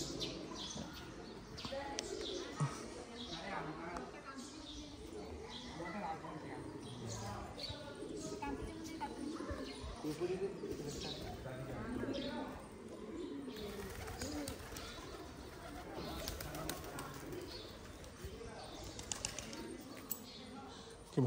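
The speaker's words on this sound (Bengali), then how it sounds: "আর এখানে দেখলাম কবুতর আছে" Pigeons coo softly inside the grounds of Noyabad Mosque in Dinajpur, their low calls mixed into a steady wash of background noise and people talking throughout.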